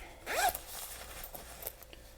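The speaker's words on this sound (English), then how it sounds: "these cool zippers that close in the middle" A zipper on a fabric bag pulled closed in one quick rising zip, close and fairly loud, followed by faint fabric handling.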